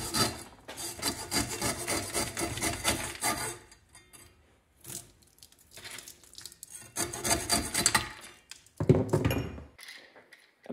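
A hacksaw cuts through a scrap electric motor to get at the copper, producing close, rhythmic rasping strokes in bursts separated by short pauses, with a few knocks.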